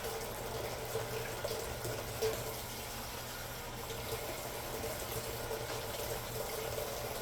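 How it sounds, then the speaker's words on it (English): Water pouring steadily into a pot of collard greens with smoked turkey wings in a home kitchen, a continuous soft splashing rush that stays even throughout with no talking. "we're going to add a little bit more water"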